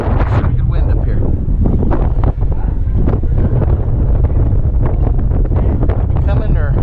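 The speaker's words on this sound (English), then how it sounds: "Good wind up here." Strong wind buffets loudly and continuously at the top of the Duomo bell tower, a heavy low roar across the microphone with voices talking underneath.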